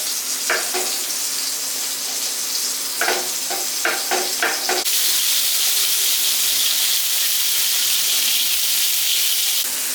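Oil sizzles and crackles steadily as fish deep fries, with a few clinks of stirring early on, then a louder continuous hiss.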